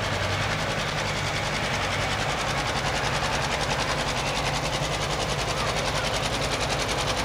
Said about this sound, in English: And another John Deere tractor coming up for us.